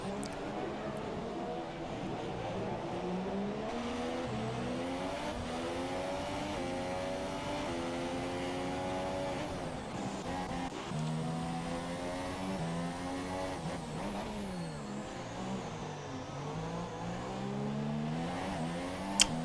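F1 race cars in a racing video game at the Singapore circuit, several engines whining and revving as they overtake one another, rising and falling pitch sweeps running continuously throughout.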